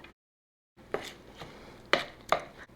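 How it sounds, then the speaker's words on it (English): Stems being chopped finely with a knife on a board, a few sharp close thuds after a brief silence, with no talk. "We chop it up fine as you can."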